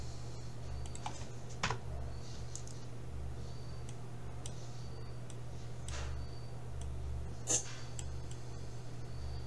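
Computer keyboard keys are tapped in sparse, light clicks, with an occasional firmer keystroke, faint and close over a steady low electrical hum.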